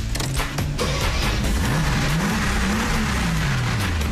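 A Mercedes AMG car engine revs loudly and steadily inside the cabin, with rising and falling pitch sweeps over a constant rumble and no talk.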